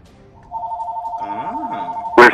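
An electronic telephone ring tone sounds close and loud during a call in a Counter-Strike: Global Offensive session, holding one steady tone with a warbling burst, then cut off by a sharp click.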